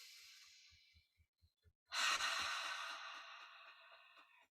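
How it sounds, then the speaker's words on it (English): A deep breath drawn in during a guided relaxation and tapping session, a slow soft inhale followed by a long, gradually fading exhale, heard alone without talk. "big breath"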